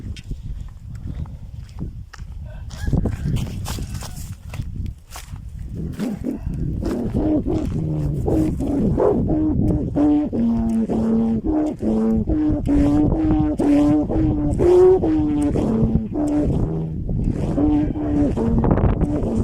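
A Thai kite hummer (snu) of 230 strands drones in a light, gusty wind, its steady buzzing tone wavering in pitch and swelling over the wind noise after a quieter start.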